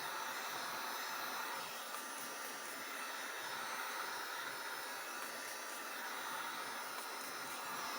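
A hair dryer blows steadily on an alcohol-ink sprayed tumbler, an even, continuous airy rush held at a constant moderate level with no pauses.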